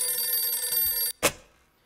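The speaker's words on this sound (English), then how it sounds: "a surprising phone call came in" A telephone bell rings steadily and loudly for about a second, then cuts off, followed by a single short clunk as the receiver is picked up.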